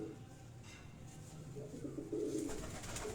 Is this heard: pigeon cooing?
yes